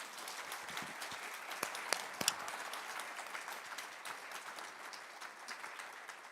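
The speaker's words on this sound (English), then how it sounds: "So why don't you give a big round of applause once again to them." At an international legal conference session, the audience applauds speakers and panelists, a dense rattle of clapping with individual sharp claps close by, steady and fairly quiet throughout.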